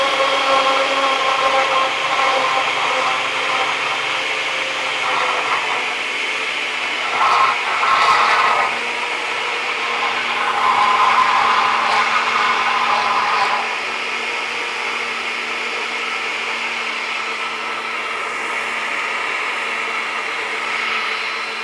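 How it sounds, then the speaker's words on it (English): A kitchen blender whirs steadily while mixing pudding cake batter after powder is added, a continuous mid-pitched motor drone with brief louder surges, then a quieter steady run toward the end. "I just decided to use the blender because I've already been using it"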